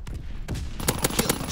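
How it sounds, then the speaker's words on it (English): Rapid bursts of Blyskawica submachine gun fire in Call of Duty WW2, with a short volley, a pause, then a tight string of loud, punchy shots. "it's the same gun sound as the ESP like 44 or something like that"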